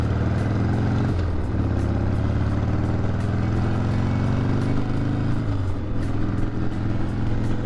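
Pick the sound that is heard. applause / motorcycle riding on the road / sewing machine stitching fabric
motorcycle riding on the road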